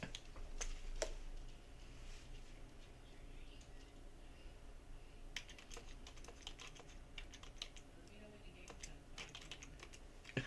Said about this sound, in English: Let me get my keyboard.